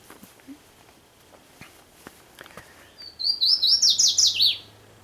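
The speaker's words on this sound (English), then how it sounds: "You can hear the birds singing." Wild birds sing in a lush, regrowing Smoky Mountains forest among charred stumps; soft footsteps and rustling come first, then a close, bright burst of rapid chirping trills.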